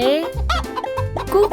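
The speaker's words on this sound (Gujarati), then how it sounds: "કુકડો." A rooster clucks loudly and close by in a short series of clucks, with no talk.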